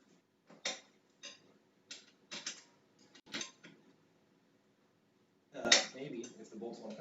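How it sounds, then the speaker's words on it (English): Metal bolts being worked loose on a Next Level Racing Motion Platform V3 rig, giving a series of faint, separate clinks and ratchety clicks in short bursts, followed by a louder clatter near the end. "while I take bolts apart"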